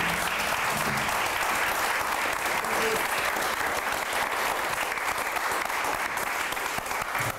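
Sustained, dense applause from an audience after an architecture debate, filling the room evenly and loudly from start to finish.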